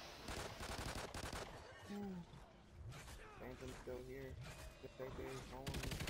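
Rapid gunfire from the co-op video game Call of Duty Ghosts Extinction rattles almost continuously, with bursts of automatic shots and loud blasts, while a player shouts and talks over the action.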